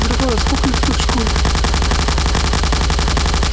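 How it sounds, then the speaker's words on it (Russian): A minigun fires in the video game Garry's Mod as a loud, steady, rapid stream of shots lasting the whole time, with a voice briefly heard near the start. "Пацаны, беру миниган."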